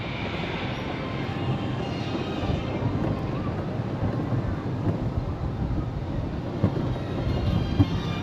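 The Dawson Duel roller coaster at Bellewaerde theme park runs along its track, heard from on board as a loud, continuous rolling rumble mixed with wind buffeting that builds slightly as the ride gathers speed.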